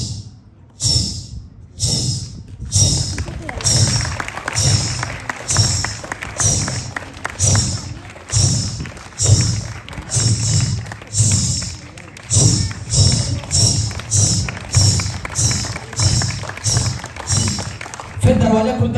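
A voice imitates ghungroo ankle bells at a comedy show, producing a steady rhythmic series of jingly, chiming bursts with thumps, repeating dozens of times close and loud.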